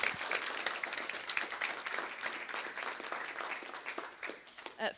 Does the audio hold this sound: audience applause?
yes